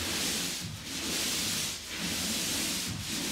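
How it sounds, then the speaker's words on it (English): A 12 inch paint roller rolls on a wall in steady, loud, close strokes of rough hissing rub, with brief dips between three passes. "Using 12 inch rollers."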